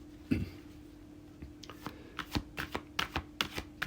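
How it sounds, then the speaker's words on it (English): Oracle card deck being shuffled by hand, heard as a quick series of close, crisp riffling and tapping bursts that speed up toward the end, with no talk. "So we're going to shuffle Liffruma"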